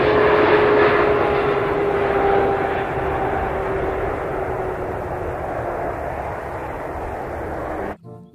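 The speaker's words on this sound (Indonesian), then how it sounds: "Wah, pesawat Garuda Indonesia." A Garuda Indonesia passenger airplane roars overhead, a loud sustained jet rumble with a whining engine tone that slowly fades before cutting off.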